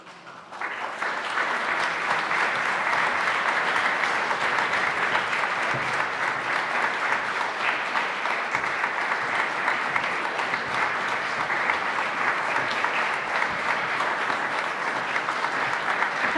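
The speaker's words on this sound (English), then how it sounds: "we will have a big thank you and a round of applause" A large audience claps at a Python conference welcome session, starting after a brief pause, then a long, steady wash of applause that stays loud and even throughout.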